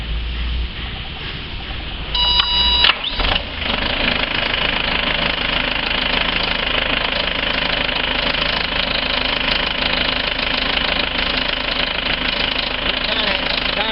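An HDX750 engine starts up and settles into a loud, steady running rumble with a knocking, vibrating throb that continues throughout after a brief burst near the start.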